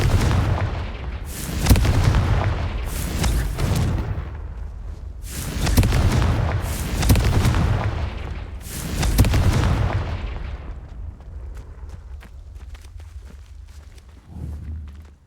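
Confringo blasting spells fired in combat in the video game Hogwarts Legacy, a series of loud, deep booming blasts in rapid bursts with rumbling tails, then a quieter stretch of softer thuds and shuffling.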